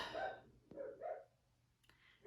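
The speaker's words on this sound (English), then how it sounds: "there she is barking again" A dog gives a few short, muffled barks separated by brief pauses, heard at moderate distance in a quiet room.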